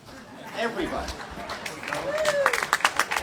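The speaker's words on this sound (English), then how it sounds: "please stand up. Please, it'll take a few seconds, and clap your hands" An audience at an Israel Bonds breakfast stands and starts clapping, scattered hand claps building toward the end under crowd chatter and a speaker's voice.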